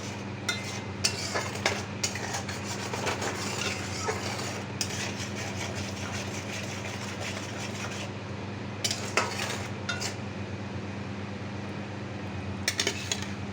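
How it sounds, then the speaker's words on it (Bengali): A spiced mixture with turmeric and tomato sauce is stirred in a pan, giving a continuous soft frying hiss and occasional scraping clinks of a utensil, over a steady low hum from a fan, with no speech. "তারপরে একটু ভালো করে নাড়াচাড়া করে দিলাম"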